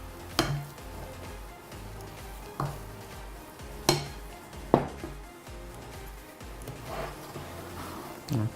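Donut dough being stirred in a bowl with a utensil, soft scraping and mixing with several sharper knocks against the bowl rim, moderately close with no talking.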